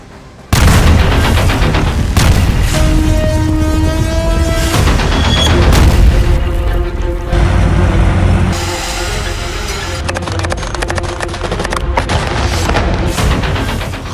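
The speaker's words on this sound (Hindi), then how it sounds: "गाजा पर लगातार बम बरस रहे हैं।" Explosions from bombing in Gaza: a sudden heavy boom followed by continuous rumbling blasts and crackling, loud and dense throughout, with no voices.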